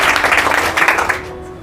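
An audience claps for a student's exam marks at a medal ceremony honouring first-division graduates, the dense, steady applause lasting about a second before it thins and fades out.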